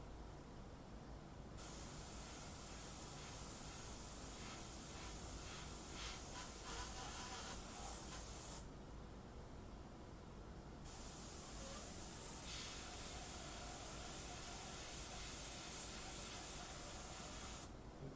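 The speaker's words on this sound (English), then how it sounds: "you want to spray right direct because you'll have less underspray if you spray direct like this" Airbrush spraying paint onto a full-color fashion portrait gives a close, steady hiss that runs nearly the whole time, briefly softening twice as the trigger eases, with no voices.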